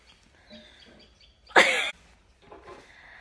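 A person coughs once, a single sharp, loud burst close by, between faint indoor background sounds and quiet stretches.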